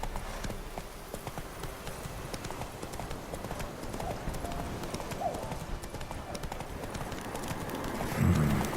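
Horse hooves clip-clop steadily through The Witcher 3 video game, a continuous rhythmic trot under game ambience, with a brief snort or whinny near the end.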